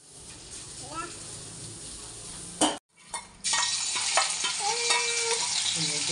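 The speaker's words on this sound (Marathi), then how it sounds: "या प्रकारे पनीराचं फ्राय करून घ्यायचं" Paneer frying in oil in a pan for chilli paneer, sizzling and crackling close up with stirring scrapes and a clink of a utensil, briefly cut off midway before the frying hiss returns strongly.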